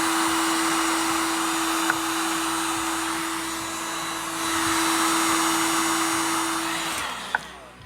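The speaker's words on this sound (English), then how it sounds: "The longer you have the heat gun on," A heat gun blows a steady, loud whooshing whine onto the foil seal of a Texas Reaper hot sauce bottle, running continuously close up and then cutting off near the end with a faint click.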